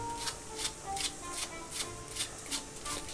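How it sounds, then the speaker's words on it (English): A deck of playing cards handled in a fake shuffle for a card trick, with soft rhythmic riffling and rubbing strokes repeating about every half second, close and fairly quiet. "you pretend shuffle by taking the top card"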